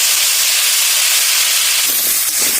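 Potatoes sizzle in hot oil left from frying fish, a loud, steady hiss that fills the whole stretch, with a few faint knocks near the end.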